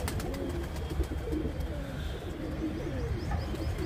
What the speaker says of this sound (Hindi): कनाक कबूतर है जो अभी अभी आके बैठ चुका है